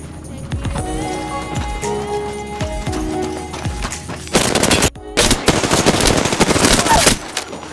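Rapid bursts of gunfire in the video game Apex Legends, loud and close, with booming shotgun-like blasts crowding the second half, preceded by clattering footsteps and game effects, with a voice occasionally speaking over it.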